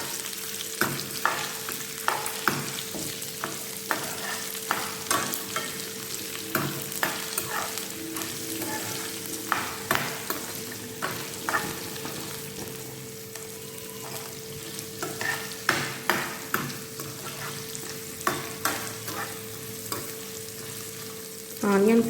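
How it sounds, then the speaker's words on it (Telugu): Onions frying in oil for semiya upma with a steady close sizzle and frequent rhythmic scrapes of a spatula stirring the pan, continuing throughout with a faint hum underneath and no talk. "ఆనియన్స్ అయితే బాగా వేగాలండి"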